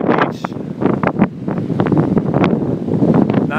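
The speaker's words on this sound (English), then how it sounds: "you can see it's ridiculously windy" Strong wind batters the microphone at Gin Lane Beach in Southampton during Hurricane Sandy, a loud, continuous gusting roar with surf and waves in the background and no talk.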